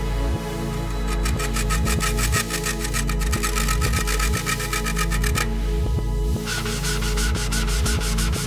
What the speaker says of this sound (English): Keep sanding, the rust is giving way.